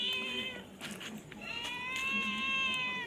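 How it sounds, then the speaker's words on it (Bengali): A pet cat meows twice, two clear drawn-out calls separated by a short pause, close and fairly loud over a quiet indoor background. "ম্যাও ম্যাও।"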